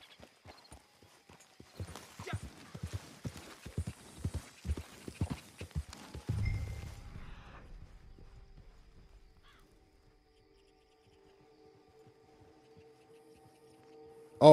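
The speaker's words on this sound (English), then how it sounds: "Oh, it's a horse." Hoofbeats of a horse in the Red Dead Redemption 2 video game, a run of clip-clop steps growing louder over several seconds, then a softer trailing sound and near silence, with a sudden loud sound at the very end.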